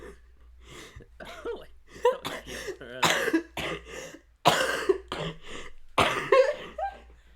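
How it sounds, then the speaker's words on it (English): A run of sharp, bursty coughs in quick succession, close and loud, with short gaps and breathy throat sounds between them. "my cough adds like a funny part to my laugh."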